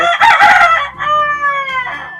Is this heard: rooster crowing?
yes